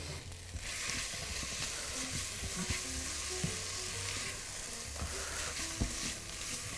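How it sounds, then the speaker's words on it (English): Potato, shallot and garlic fry in a pan with a steady, close sizzle, punctuated by occasional taps and scrapes as the mixture is stirred. "you want to put the potato into the pan with the shallot and the garlic. Give that a good stir."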